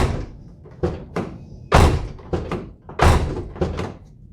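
A Hyundai Sonata car door, 2011–2015 model, is worked repeatedly, giving a series of about seven loud, close thunks and slams as it opens and shuts.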